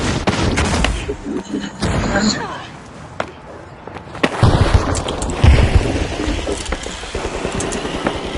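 Gunfire in the video game The Finals: bursts of rapid shots and impacts, loud and close, mixed with game effects, while people talk and shout over it.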